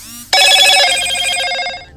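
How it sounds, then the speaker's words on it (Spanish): A telephone bell at a live radio station rings loudly and continuously after a brief quiet start, its bright repeating trill filling the clip with no talk over it. "Y el teléfono a full que no para."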